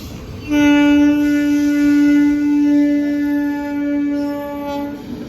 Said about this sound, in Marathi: रेल्वे गेट लागले कुठली ट्रेन येते बघूयात